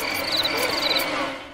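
Crickets chirping in short, high, trilling pulses over a soft steady background, fairly close and continuous before fading slightly at the end.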